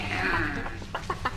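A person imitates a chicken, giving a few short, quick clucks in succession after a brief drawn-out tone, close and moderately loud.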